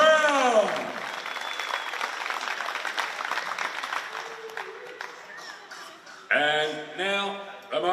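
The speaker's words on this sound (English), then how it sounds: "A round of applause, our best and fairest, Jack Brown." Applause from the crowd at a Queensland wheelchair rugby league state cup presentation, a steady broad clatter under loudspeaker talk from an announcer, with loud voices cutting in near the end.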